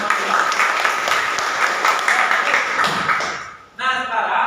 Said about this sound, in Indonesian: Silakan berikan tepuk tangan dulu untuk teman-teman.